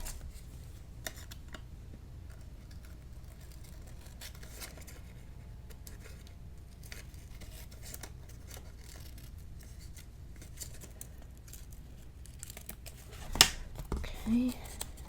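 Scissors trim paper for a crafted mini album, a few quiet close snips and rustles on a tabletop before a brief louder sliding cut near the end.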